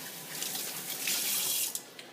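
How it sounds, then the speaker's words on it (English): Water from a kitchen tap runs steadily into a sink while hands are rinsed, a close, continuous hiss with small splashy shifts in texture and no talking. "Let me just rinse my hands here."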